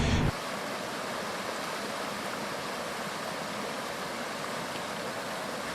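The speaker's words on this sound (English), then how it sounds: "You can see behind me there's a boiling waterfall." A boiling waterfall on the Rio Caliente hot river in the Primavera Forest near Guadalajara, Mexico, gives a steady rushing roar after a brief louder burst at the start, continuous and unbroken with no talk.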